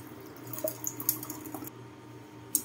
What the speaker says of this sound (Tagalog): Lalagyan natin ng konting water para po maluto siya.